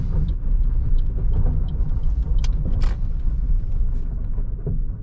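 A car rolls steadily along a paved road, a continuous low engine rumble and tyre noise, fairly close, with no talking.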